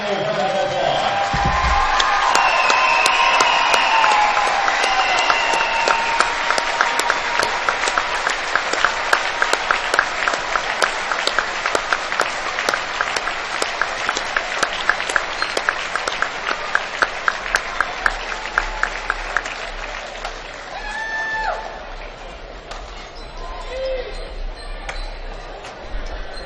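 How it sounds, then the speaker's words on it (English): A high school boys basketball crowd applauds seniors in the gym, a long, loud, steady round of clapping lasting over twenty seconds, with a few sharp claps standing out and a brief announcer-like voice near the end. "Ladies and gentlemen, please join in giving me our Norwell seniors one final round of applause."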